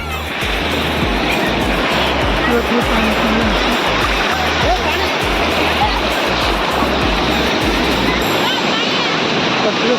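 Sea waves breaking on the beach at Puri, a loud continuous roar of surf filling the whole stretch with a low rumble beneath.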